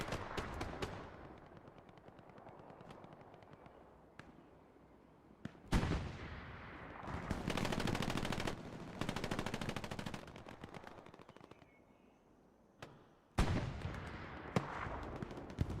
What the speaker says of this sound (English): Another rocket coming in. That's multiple rockets.